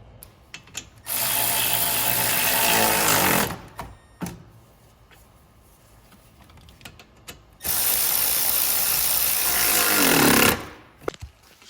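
Bolts on a new AC condenser for a Ford Super Duty pickup being fastened with a power ratchet, two loud sustained whirring bursts of several seconds each with short clicks and clanks between them, close and with no talking.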